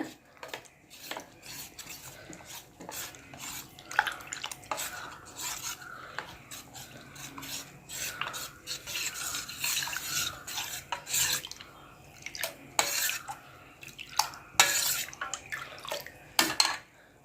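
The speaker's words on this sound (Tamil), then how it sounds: "அரை லிட்ரு பாலில் ஒரு கப் கஸ்டர்ட் பவுடரை சேர்த்துங்க நல்லா கரைச்சி விடுங்க கட்டி இல்லாமல்" Custard powder is stirred into half a litre of milk to make it lump-free. A spoon scrapes and swishes against the vessel in a busy, continuous rhythm for many seconds, close up, with no talking.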